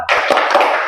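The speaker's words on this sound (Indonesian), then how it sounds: "Tepuk semangat." A class of students bursts into a rhythmic spirit clap, a dense, loud run of hand claps close by with a few sharper accents, filling the whole second.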